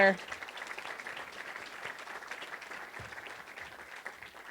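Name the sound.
audience applause for board members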